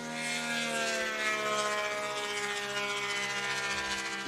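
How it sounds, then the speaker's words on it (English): A STOL aircraft takes off at a short-takeoff championship in Texas, its propeller engine giving a steady, loud droning roar with a high whine for a few seconds, no talking heard. "we're seeing some short takeoffs here"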